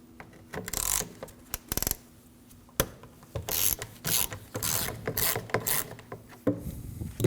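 An 8mm ratchet clicks steadily as it backs out the recirc valve screw on a 2009-2014 Ford F-150 3.5L V6, with rapid pawl ratcheting in close, loud bursts and brief metallic pauses between strokes.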